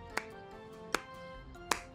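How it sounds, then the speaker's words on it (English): Children clap their hands slowly, three sharp, evenly spaced claps about three-quarters of a second apart, with a faint tonal background between them. "Let's clap slowly."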